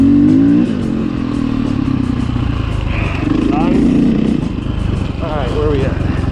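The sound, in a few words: KTM 500 EXC dirt bike revving on trail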